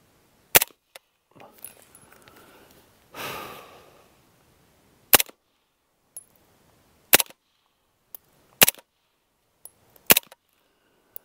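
Suppressed MP5 SD submachine gun fired single shots at a range, each a sharp close crack spaced a second or two apart, with a brief breathy rustle early on.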